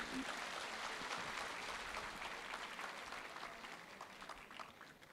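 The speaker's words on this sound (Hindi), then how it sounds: "जोरदार तालियां होनी चाहिए।" Loud, sustained applause from a crowd at a business talk event, dense clapping that holds steady before gradually thinning and fading toward the end.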